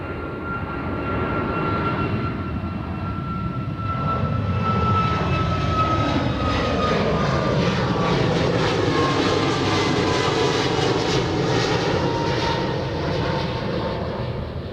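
Alaska Airlines flight 78, bound for Juneau from Anchorage airport, roars steadily as a loud jet engine, its whine rising and sweeping in pitch for the whole stretch with no voices.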